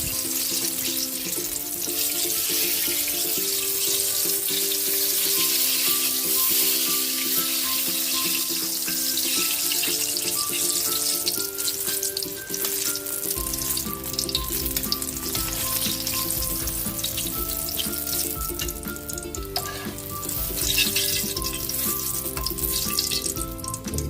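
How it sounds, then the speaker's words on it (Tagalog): Eggplant fries in hot oil with a dense, steady sizzle and crackle, close and continuous, while a faint musical backdrop plays along. "check natin kung luto na ang ating pritong talong"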